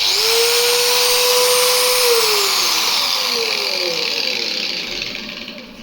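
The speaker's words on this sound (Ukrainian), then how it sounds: "Зараз будемо тестувати оцю кутошліфувальну машинку, чи вона буде вмикатися" An angle grinder running on power from a LiFePO4 portable charging station spins up to a steady high whine, holds, then winds down as its pitch slides lower, alone without speech.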